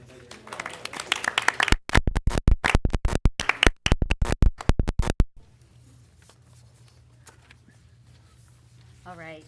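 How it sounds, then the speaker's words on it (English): A school board meeting audience claps in a brief burst of applause, loud and dense for a few seconds, then cuts off into quiet room tone with faint murmuring. "One more round of applause."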